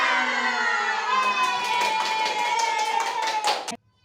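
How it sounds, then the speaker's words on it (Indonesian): University students doing a spirit clap together in a classroom, a burst of rhythmic claps with chanted shouts that ends abruptly in silence. "Tepuk semangat"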